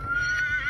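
A horse on a ranch gives a short, loud whinny, close and brief, over a low background rumble.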